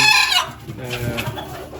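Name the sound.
chickens clucking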